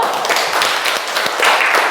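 Students in a chemistry class clap together for a couple of seconds, a close, bright patter of hands with a few sharper individual claps standing out.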